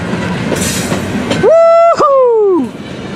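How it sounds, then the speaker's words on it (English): The last cars of a Norfolk Southern freight train rumble past up close, then a loud whooping voice rings out as the noise drops away. "And here comes the end of the train."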